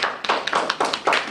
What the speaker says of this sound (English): I think we ought to give them a round of applause for that.